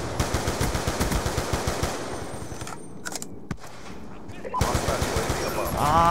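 An FAL rifle firing in the Black Ops 2 video game, a loud, fast string of rapid shots, a brief lull with a few isolated reports, then the shooting resumes.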